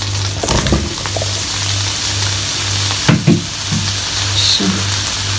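Mushrooms sizzle steadily in a small frying pan, with a few soft clatters and stirring knocks over a faint low hum.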